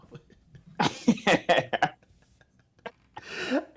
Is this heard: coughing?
yes